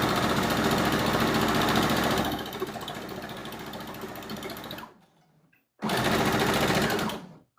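A sewing machine runs over pins while sewing a Burda 6442 garment, a steady close whirring hum that slows, stops briefly and then resumes for a short burst before cutting off.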